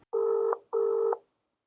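Two steady electronic ringback tones sound on an unanswered phone call. They are evenly spaced, each about half a second long, clear and alone, and silence follows.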